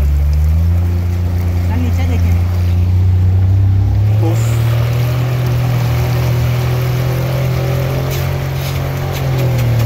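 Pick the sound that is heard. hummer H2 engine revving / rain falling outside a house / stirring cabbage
hummer H2 engine revving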